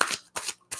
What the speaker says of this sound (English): So I'm going to give these a quick couple shuffles.